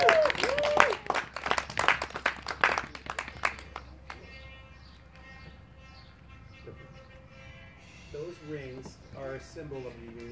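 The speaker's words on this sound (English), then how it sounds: "How about a round of applause for those rings?" A burst of clapping and applause at a wedding for a few seconds that quickly dies away, followed by quieter background and a voice speaking near the end.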